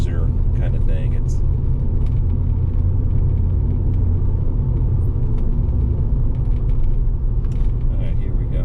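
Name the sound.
1991 Porsche 928 S4 driving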